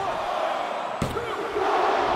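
A video game arena crowd roars steadily through a wrestling match, a dense sustained wash of noise with a sharp slam of impact midway.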